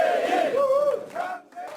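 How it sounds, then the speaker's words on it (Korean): A crowd of supporters at an election campaign office bursts into loud, close, rising cheers and shouts in a short celebratory outburst. "장세일 영광군수 당선인의 선거 사무실에서는 개표 시작 2시간여 만에 환호성이"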